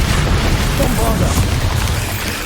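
A Bombarda spell blast in Hogwarts Legacy on PS5: a dense, sustained booming rumble with crackling bursts, steady and loud throughout, mixed with combat voices.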